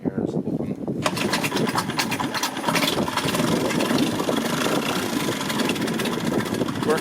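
A Mercury 2.5 hp four-stroke outboard engine is started after a quiet moment and settles into a steady, close, buzzing idle, with a voice speaking over it.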